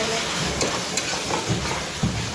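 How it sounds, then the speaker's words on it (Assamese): Chopped ridge gourd fries with a cracked egg in a home kitchen pan, giving a steady close sizzle and hiss with a few soft stirring scrapes and clinks. "এতিয়া জিকা ভাজি বনাই লগত কণী এটা ভাঙি দিলে ভাল লাগে"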